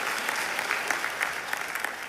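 An audience at a high school graduation ceremony claps for the parents of the graduates, a steady patter of many hands filling the hall for a couple of seconds without any voices.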